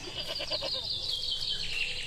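A cartoon goat named Sundari bleats near a cave in an animated Panchatantra jungle story, a short series of wavering, nasal calls followed by a higher drawn-out cry, moderately loud over a faint background.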